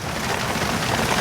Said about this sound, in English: Is it hailing?